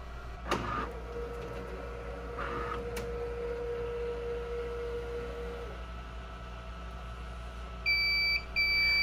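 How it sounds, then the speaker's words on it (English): Steady high-pitched electronic beeps from an Epson F2100 DTG printer warning that the platen is too high, repeating in a short pattern near the end over a constant mechanical hum, with an earlier sustained tone. "this beeping is actually the machine telling me that the platen is too high"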